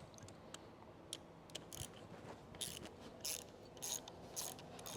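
Ratcheting wrench clicks and metallic tool sounds come from removing the bolts on a 2019 Mercury 300 V-8 outboard's alternator assembly, close up and moderately faint, with bursts of rapid ratchet clicking between quieter mechanical handling.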